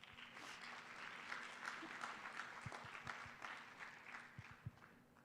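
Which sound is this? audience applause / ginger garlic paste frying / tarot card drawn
audience applause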